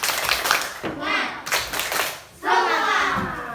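Elementary schoolchildren in a classroom do a rhythmic spirit clap, loud patterned bursts of hand claps separated by brief pauses, with young voices chanting along.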